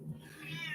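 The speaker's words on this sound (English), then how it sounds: "Yes, kitty cat." A house cat gives one short, close meow over a low background hum, and nobody speaks.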